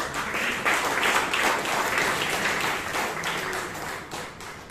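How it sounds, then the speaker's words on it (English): Applause from the audience at a Toastmasters meeting in Bangalore: a full, dense patter of many hands, strong at first and gradually thinning and softening over a few seconds. "I think they deserve a bigger round of applause."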